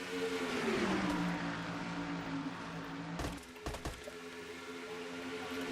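Race car engines in a racing video game at Charlotte, a steady droning whine that dips in pitch as the cars pass, with brief clattering bursts midway.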